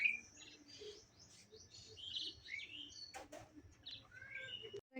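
Pigeons at a cattle farm flutter and flap their wings near a shed door, with brief wing bursts among scattered bird chirps over a quiet rural background.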